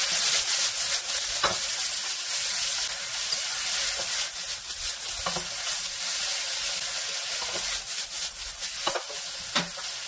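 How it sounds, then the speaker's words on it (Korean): Bean sprouts and ham stir-fry over high heat with oyster sauce, giving a continuous sizzle and hiss with intermittent scraping clacks of a utensil against the pan, fairly close and without voices. "숙주 300g, 굴소스 3분의 2큰술 넣고 강불에서 빠르게 볶아줍니다."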